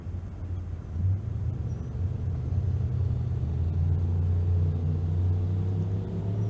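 A 2007 Mustang and a Silverado idle and creep into the drag lanes at a race day at State Capitol Raceway, a steady low engine rumble swelling slightly after the first second and holding, with no talk.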